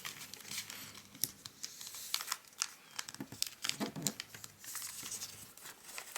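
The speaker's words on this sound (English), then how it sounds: "we have that little fold here. So yeah, we can fold it down." Paper being folded into an origami shooting star plane, close and quiet crinkling and creasing in irregular bursts, with soft rustles and pats between them and no talk.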